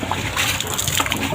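Water gushes and splashes in uneven bursts as a bicycle is washed, a close, busy spray with short irregular surges and no talking.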